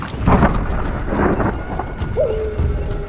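Thunder rumbles over steady rain and a blustery wind in a thunderstorm made as an effect for an animated Hindi horror story, loud and continuous with a low swell.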